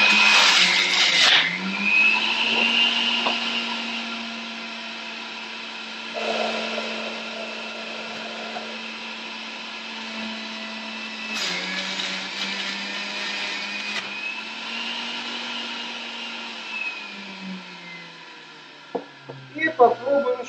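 An electric juicer runs loudly and steadily for a long stretch while apples are pressed through it to add to cucumber juice, with a grinding pitch change partway and a few clunks as it winds down.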